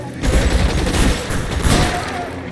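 Gunfire from a shootout in the video game L.A. Noire, a dense, continuous volley of shots with booming low-end bursts, loud and sustained throughout with a couple of sharper peaks.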